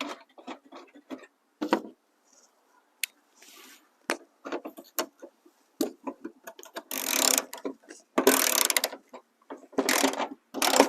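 A hand ratchet tightens 13mm bolts to refit a brace on a Chevy Silverado, bursts of rapid clicking separated by pauses and faint handling noises, close and moderately loud.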